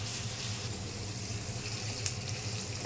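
Chopped onion frying in a pan with bay leaves makes a soft, continuous sizzle that runs unbroken throughout, with no one talking.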